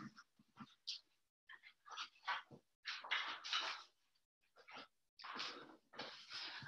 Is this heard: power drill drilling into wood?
no